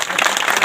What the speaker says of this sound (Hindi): तालियां, बहुत बढ़िया।